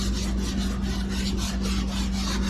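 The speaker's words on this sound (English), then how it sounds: "you know how to sand it? Cross hatch and keep going." Epoxy primer on a 1969 Mustang Boss 302 body panel is sanded by hand in a cross-hatch pattern, a steady, close, rasping scrub with a rapid back-and-forth rhythm and no talk.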